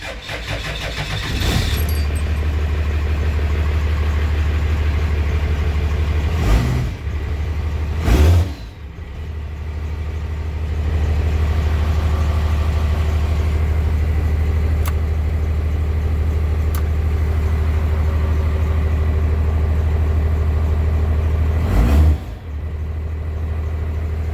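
A Cummins 6BT diesel swapped into a 1994 Blazer cranks and catches, then idles with a loud, steady low rumble, with further cranking and restarts breaking the idle.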